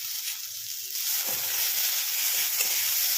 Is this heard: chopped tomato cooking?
yes